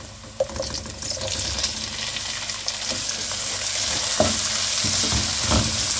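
Frozen unripe sour grapes fry with browned onions and turmeric in a pan for a Gilani stew, making a steady close sizzle with occasional stirring knocks and scrapes that grows slightly fuller toward the end.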